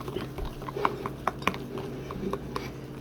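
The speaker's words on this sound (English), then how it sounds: "we're just going to stir them up until they're smooth" A utensil stirs melted marshmallows and butter in a mug, giving a run of light irregular clinks and scrapes against the sides, close and fairly quiet.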